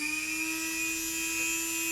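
A Dremel rotary tool whines at a steady high pitch, moderately loud and close, with no voices heard.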